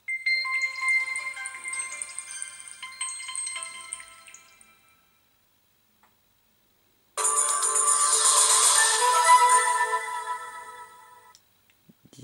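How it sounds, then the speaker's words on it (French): Two cheap Android phones, a Cubot GT95 and a Lenovo A399, play their startup jingles one after the other: a tinkly chiming tune for about four seconds, a short silence, then a brighter, denser electronic melody, clear and close with no talking. "on peut avoir une belle compétition de musique de démarrage bien pourrie que vous allez pouvoir tout de suite entendre"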